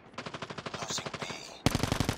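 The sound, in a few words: gunfire in the video game Call of Duty Mobile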